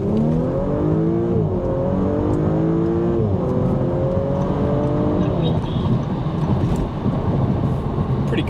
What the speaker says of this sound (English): and here's a full throttle pull.